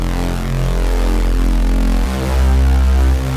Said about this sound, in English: it's that old sort of classic drum and bass sound that you would find really common in sort of 90s and early 2000s